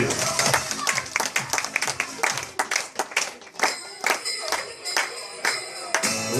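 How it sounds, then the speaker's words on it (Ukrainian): Children and adults at a first-grade New Year school party in Kyiv clap to welcome Aladdin, with quick uneven claps mixed with music and voices over several seconds. "Оплески, друзі!"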